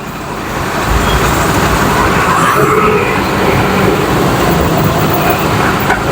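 Steady road traffic from cars and buses on a congested street, a continuous loud roadway rumble and hiss without breaks, no talking.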